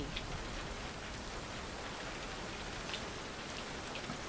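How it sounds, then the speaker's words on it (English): Steady rain falls in the video game Road 96, a soft, even patter and hiss of drops spread across the whole moment, faint and continuous with no speech over it. "Oh, it's a rain, okay. That's not so good."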